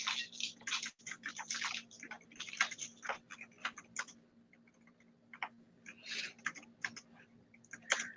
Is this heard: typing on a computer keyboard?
yes